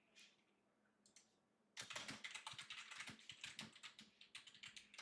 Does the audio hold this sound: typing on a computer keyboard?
yes